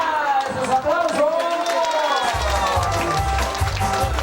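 Rhythmic clapping at a birthday party for Mrs. Isidra Reyes in San Cristóbal Chay, set under loud cheering and chanting voices from a close crowd, with the beat of claps growing stronger in the second half.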